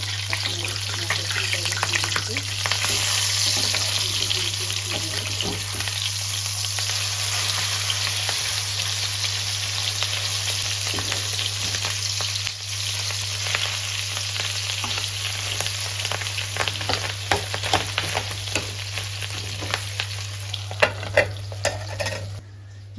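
Potatoes with fish and fish roe are stirred and frying in a pan, giving a steady close sizzle with scraping and stirring clatter throughout and a constant low hum underneath, no talking.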